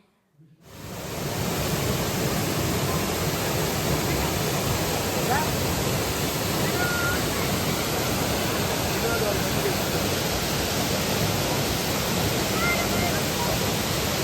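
Water pours down from the Tirumala hills at the Kapila Teertham waterfall during a heavy flood-season flow, a loud, constant roaring rush that starts abruptly and then holds steady, with no voices.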